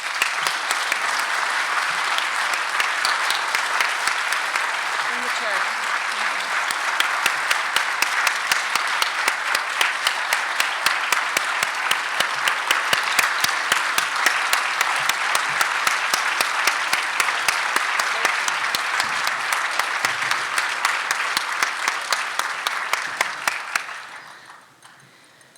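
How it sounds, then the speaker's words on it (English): Sustained audience applause at a conference plenary session, a broad, dense clapping from a large crowd that holds steady for over twenty seconds before tapering off at the end. "if we could all give another round of applause to Joanne, please."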